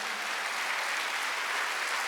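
Church congregation applauding during a Wednesday worship service, a brief, even burst of many hands clapping, loud and continuous from start to finish.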